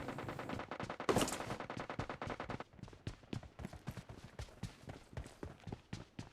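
Rapid gunfire in PUBG Mobile Lite crackles in a dense burst, then continues as a string of separate sharp shots at an uneven rhythm, fairly loud with game background behind.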